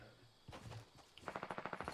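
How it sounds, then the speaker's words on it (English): A player's weapon fires in an online shooter game, first a couple of isolated shots and then a fast, evenly spaced burst of about eight rounds, moderately close, with no one talking. "the fact that this kid's just fucking shooting me"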